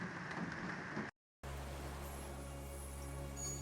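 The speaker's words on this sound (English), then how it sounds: "That's not interference, that's rain." Heavy rain pouring down outdoors, a steady broadband hiss with a brief dropout, then continuing dense and even with a low hum underneath.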